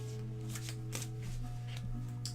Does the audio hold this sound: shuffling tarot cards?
yes